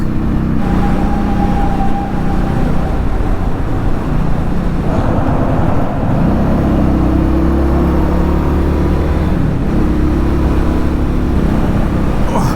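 A 2020 Indian Scout Bobber Twenty motorcycle cruises on a highway, with steady loud engine drone and wind rush. The pitch shifts as the rider drops from sixth into fifth gear.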